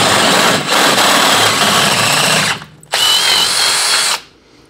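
A power drill bores out a stripped sway bar bolt hole, running loud and steady for about two and a half seconds, dropping briefly, then grinding again before spinning down.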